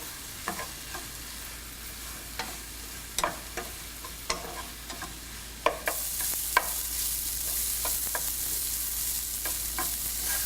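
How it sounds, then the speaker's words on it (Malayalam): Onion, ginger, green chillies, garlic and curry leaves sautéing in a pan for an egg roast, a soft continuous sizzle broken by sharp scraping spoon strokes stirring at irregular intervals, close and without talk. "1 ടേബിൾ സ്പൂൺ ഇഞ്ചി, 2 പച്ചമുളക്, 1 ടേബിൾ സ്പൂൺ വെളുത്തുള്ളി, 1 തണ്ട് കറിവേപ്പില എന്നിവ ചേർത്ത് നന്നായിട്ട് വഴറ്റുക"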